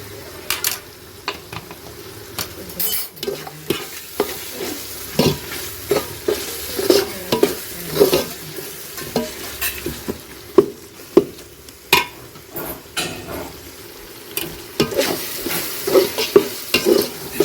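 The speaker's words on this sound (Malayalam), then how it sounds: "മസാലയൊക്കെ നല്ലോണം മൂത്ത് വരുന്നുണ്ട് നല്ലോണം നന്നായിട്ട് വെന്തോട്ടെ കേട്ടോ" Biryani masala with tomato and onion sizzles loudly in a pan as a utensil stirs and knocks against the metal in frequent, uneven strokes over a continuous frying hiss.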